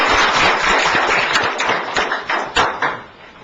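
Attendees clapping together at a founding general meeting, a dense burst of applause that swells, then breaks into scattered claps before dying away.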